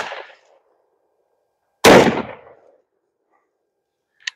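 A Serbu Super Shorty shotgun fires a Fiocchi short shell outdoors at a range. It gives one loud, sharp blast that trails off, followed seconds later by a small metallic clink.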